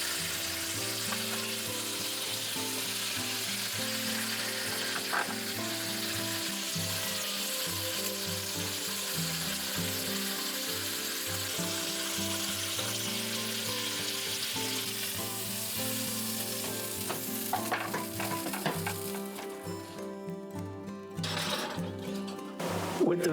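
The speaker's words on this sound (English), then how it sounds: "It's gonna go into a frying pan to sear" Meat sears in a hot pan with a steady, loud sizzle that runs continuously, with a few clinks of utensils near the end.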